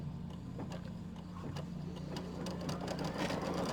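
A home embroidery machine stitches a batting placement line on a quilt block, a quiet, fast, steady mechanical whirring with a rapid needle rhythm close by.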